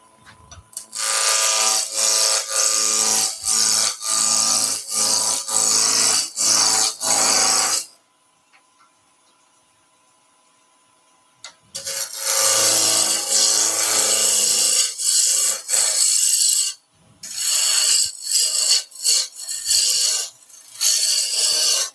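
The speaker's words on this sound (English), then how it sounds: "So lathe speed is zero, turn the lathe on." Wood lathe turning a nutcracker hat, with bursts of close scraping and rasping as the tool cuts the spinning wood, broken by quieter pauses, then more long cutting passes.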